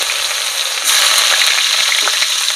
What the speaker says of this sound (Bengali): সেই পেঁয়াজটা তেলের পরে দিয়ে দিলাম।